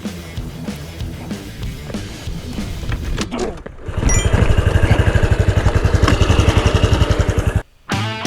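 A Honda Super Cub small motorcycle engine in 4th gear, starting with a low uneven rumble before catching and settling into a loud, rapid, steady chug that cuts off abruptly near the end, then resumes briefly.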